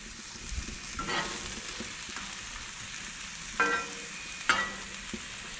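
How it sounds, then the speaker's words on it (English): Vegetables and sausage frying on a Blackstone griddle turned to low, a steady sizzle with a couple of sharp scraping clacks from a metal spatula. "We're going to dump off all the veggies and the sausage. We're going to get these cooking."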